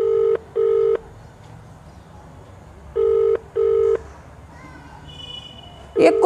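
Four evenly spaced electronic ring tones sound in two pairs, followed by a brief clatter at the end; no one answers.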